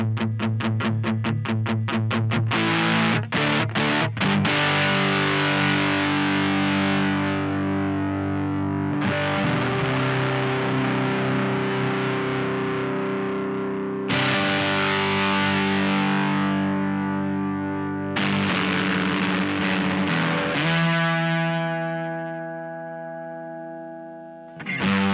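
Electric guitar through a Menatone The King overdrive pedal with the low control fully up, thick distorted chords strummed and left ringing in several sustained swells, loud, with no talking.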